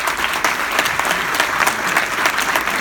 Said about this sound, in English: Okay, get that applause out of your